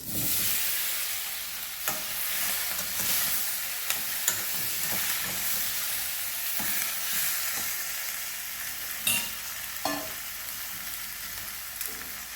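Tomato pieces fry in a pan with steady sizzling and occasional stirring clinks, a continuous moderate hiss with no talking, while they cook down for a tomato and raw mango chutney.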